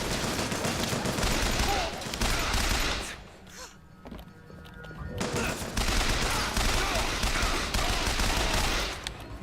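Machine guns firing in a video game, dense rattling bursts that run continuously, pause briefly, then resume just as loud and steady.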